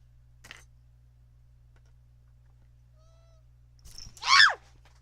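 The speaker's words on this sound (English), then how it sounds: "That's my cats fighting" Two pet cats fighting, one of them named Panther: after a long quiet stretch over a steady low hum, a brief, loud, rising-and-falling yowl bursts out close by near the end.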